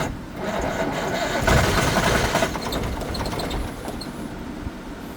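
A London AEC Routemaster bus engine cranks over with no fuel and no throttle, a steady, noisy mechanical churning that runs continuously for several seconds without catching.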